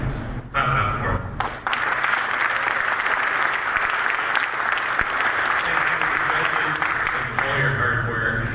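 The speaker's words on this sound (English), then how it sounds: "guys, clap it up for them" A crowd at the 2015 Hackaday Prize awards ceremony bursts into sustained applause, a full, even roar of clapping that starts abruptly and carries on for several seconds, with a few voices briefly audible near the start and end.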